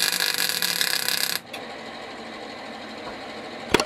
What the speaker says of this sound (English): So this is the welder going now.